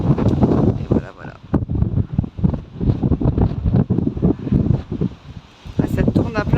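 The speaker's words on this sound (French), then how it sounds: "Il y a beaucoup de vent." Strong wind buffeting the microphone outdoors, a loud, gusting roar that rises and falls in waves, with a voice talking over it.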